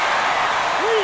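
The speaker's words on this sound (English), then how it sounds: "Crowd locked in right now." Stadium crowd in MLB The Show 23 during a ninth-inning game between St Louis and the LA Dodgers, a steady broad roar of cheering and applause with a voice briefly rising over it near the end.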